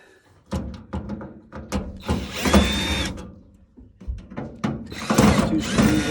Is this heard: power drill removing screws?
yes